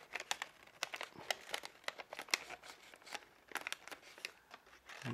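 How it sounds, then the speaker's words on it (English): Paper is folded and creased into an origami module, giving quick, close crinkles and sharp rustling snaps in uneven bursts with short pauses between them. "And fold it over."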